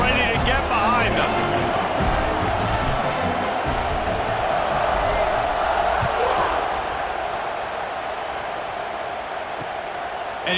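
A stadium crowd roars steadily in EA Sports College Football 26 ahead of a kickoff, a broad, dense wash of cheering that eases slightly toward the end, with a commentator talking over it.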